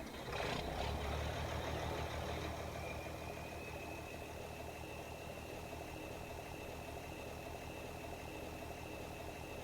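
Ford TW farm tractor engine in Farming Simulator 17, a brief start-up burst followed by a steady, loud diesel idle that drones on alone with a faint high whine.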